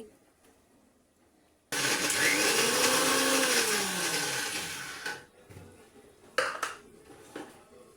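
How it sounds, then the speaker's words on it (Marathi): A kitchen mixer grinder blending peanuts and a few green chillies runs loudly for several seconds with a steady whirring roar, then stops, followed by a few clattering knocks. "त्या मी यामध्ये टाकून घेतल्या आणि आता मिक्सरमधून फिरून घेते"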